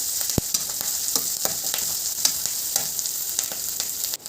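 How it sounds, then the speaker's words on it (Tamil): Green chillies and curry leaves sautéing for a goat blood fry, a steady close sizzle with occasional scrape and clink of a spoon stirring in the pan, no talk. "சேர்த்துட்டு நல்லா வதக்கி விட்டுடலாம்."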